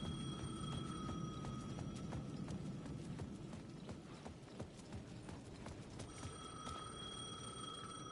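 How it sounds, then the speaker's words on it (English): A payphone in the Alan Wake 2 video game rings with repeated metallic bell trills at the start and again near the end, faint under a steady rhythmic clatter of game ambience. "The payphone at the edge of the plaza was ringing again."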